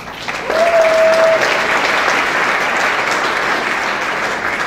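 A graduation ceremony audience breaks into loud, steady applause that holds for several seconds, with a brief whistle-like tone near the start and no talk over the clapping.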